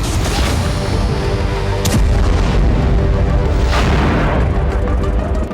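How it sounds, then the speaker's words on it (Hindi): Heavy booming blasts from Russian attacks in Ukraine rumble continuously, with a few sharper bangs standing out over a dense, loud roar. "फ्रंट लाइन से लेकर कीव तक लगातार धमाके हो रहे हैं"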